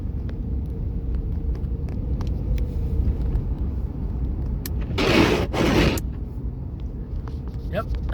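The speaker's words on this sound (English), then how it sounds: "that's what windshield wipers on ice sounds like" Windshield wipers scrape across an icy windshield in two harsh bursts over a steady low car-interior road rumble while driving on icy roads.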